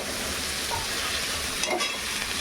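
Poa bhola fish fry in a wok, flipped over, with a broad, steady sizzle that stays close and even throughout. Brief scraping flares appear near the end. No one speaks.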